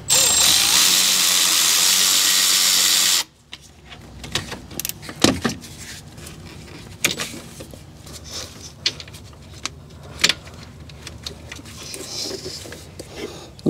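A Milwaukee battery ratchet whirs loudly for about three seconds as it spins a starter bolt loose on a Toyota Matrix 1ZZ-FE engine, followed by quieter clicks and taps of the tool and metal parts.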